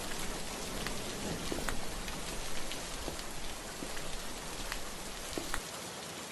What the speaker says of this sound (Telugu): ఇప్పుడు వర్షం కూడా కొంచెం తగ్గింది